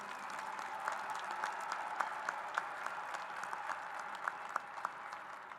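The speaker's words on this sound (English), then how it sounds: "Please applaud these students for their academic honors." Spectators at a 2024 Peoria High School graduation applaud students for academic honors, a faint, distant patter of many hands with a few sharper nearby claps popping out, continuing evenly.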